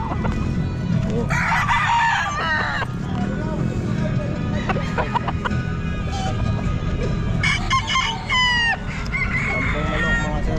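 Roosters crow and hens cluck at a busy pet market in Bocaue, several crowing calls rising and falling over constant crowd chatter and people talking nearby.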